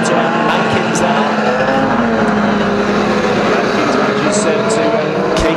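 Unlimited banger racing cars roar around the Kings Lynn track at a Halloween carnival meeting, engines loud and continuous with bursts of tyre and crash noise, while a commentator talks over the action.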